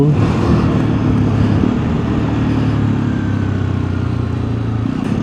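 A Hero Xpulse 210 motorcycle rides in fourth gear, its engine droning steadily and loud throughout with no speech, a continuous road-running hum.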